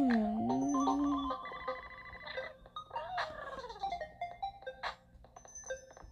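A household phone rings with a bright, tonal ringtone melody that repeats over about six seconds, fairly close and clear, with scattered background movement.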